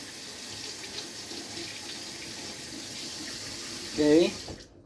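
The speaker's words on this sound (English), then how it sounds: "And I'm going to rinse these." Peppers rinsed under a running kitchen tap, a steady, soft hiss of flowing water that swells into a brief splashing burst near the end before cutting off.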